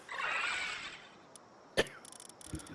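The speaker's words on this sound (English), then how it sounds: "Sorry, just coughing." A single sharp cough stands out briefly amid quiet room noise, followed by faint small sounds.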